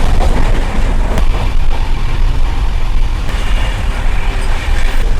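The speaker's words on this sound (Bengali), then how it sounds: "ট্রেন কিন্তু খুব স্পিডে যাচ্ছে।" Shipra Express train running at speed, a dense loud rumble and rattle of wheels on track that continues without a break.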